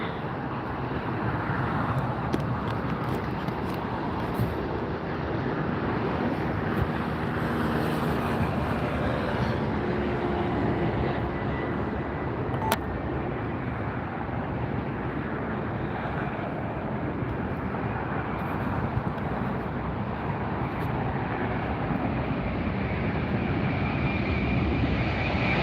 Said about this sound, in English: Here comes the ANA Dreamliner.